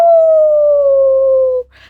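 A long, loud howl holds a steady tone that slowly drops in pitch, then cuts off, followed by a brief burst of noise.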